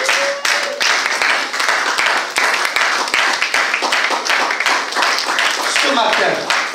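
A church congregation applauding and cheering for the Lord, steady loud rhythmic clapping from many hands filling the whole stretch, with voices calling out over it.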